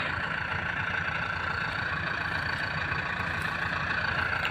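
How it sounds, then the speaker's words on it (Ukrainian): An LS 1004 tractor with a 105-horsepower engine, pulling a PSKU plough in a field, runs at a steady, unbroken idle-like drone throughout, close and constant. "Пашемо трактором LS 1004, 105 лошадок."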